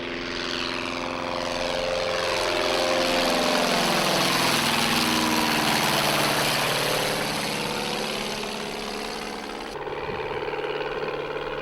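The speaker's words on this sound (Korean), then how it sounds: "이제는 어디에서도 찾아보기 힘들어진 구식 비행기." An old-fashioned propeller airplane engine runs up near an island airstrip in Alaska, a loud, close, droning roar with shifting beating tones that swells in the middle, then eases and steadies toward the end.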